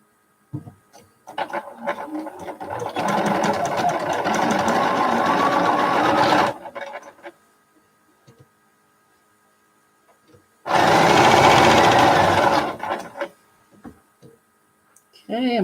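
Sewing machine stitching colorful quilt pieces together runs in two long, steady whirring stretches with a quiet gap between them, close and loud.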